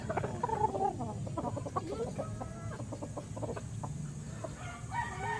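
A pure Gilmore Hatch gamecock rooster crows and clucks in a farm yard, fairly faint, with a few separate calls over quiet rustling.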